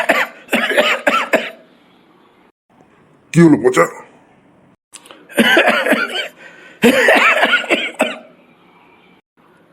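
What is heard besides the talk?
cartoon character coughing heavily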